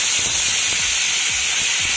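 Curry leaves dropped into hot oil with fried black mustard seeds give a loud, steady sizzling hiss that fills the short moment without any talk.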